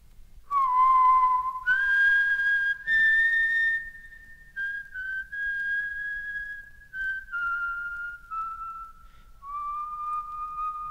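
A person whistles a slow, sustained melody alone, with clear tones gliding between long held notes and short pauses.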